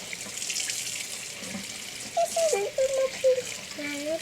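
Cold water runs steadily from a tap into a sink, a continuous near splashing rush with a faint voice or tonal sounds briefly over it toward the end.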